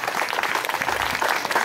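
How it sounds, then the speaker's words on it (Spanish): A church congregation claps steadily in praise during a sermon, a full, continuous burst of applause that fills the room at moderate loudness throughout. "Un fuerte aplauso para el Señor Jesús."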